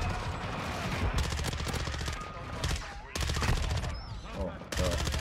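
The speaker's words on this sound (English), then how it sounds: "They keep shooting." Rapid automatic gunfire in Call of Duty Modern Warfare 2 plays as dense bursts of submachine gun shots that stop and start, loud and close, with a short gap near the three-second mark.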